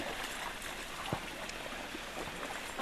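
A creek flows beneath a crude log bridge on the Lake Isabel trail. The water makes a steady, even rushing wash that runs unbroken from start to end, with no voices.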